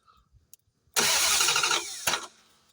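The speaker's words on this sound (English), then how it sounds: "Car's running, man." A Dodge Durango engine cranks briefly and catches. It settles into a loud idle, then gives a short second surge before it quiets. No one speaks.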